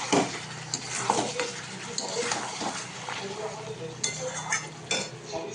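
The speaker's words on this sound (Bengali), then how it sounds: "এদিকে মাংস কষানো হচ্ছে" Mutton is sautéed in a pan for a Bengali meat curry, with steady sizzling under the scrape and clink of a metal spoon stirring against the pan, close by and continuous.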